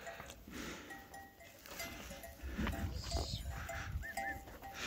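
Sheep and lambs on a village farm in Turkey, with animal bleats and farmyard activity at a middle distance over a steady outdoor background, with no speech.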